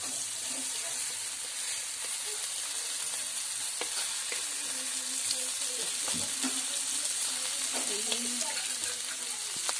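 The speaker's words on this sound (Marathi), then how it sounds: "कोलमी व्यवस्थित परतू पाहिजे." Prawns fry and get stirred in a pan over a wood-fired stove, a soft continuous sizzle with occasional utensil scrapes and faint background voices.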